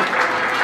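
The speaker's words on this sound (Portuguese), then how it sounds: "Salve de palmas para DJ Fran" A crowd at a Brazilian freestyle rap battle event applauds for the DJ, a brief, dense burst of clapping that is steady and fairly loud.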